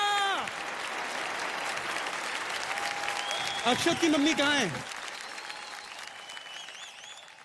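Studio audience applause on a Hindi TV drama show, a steady clapping bed that fades partway through, with people talking and a voice speaking over it.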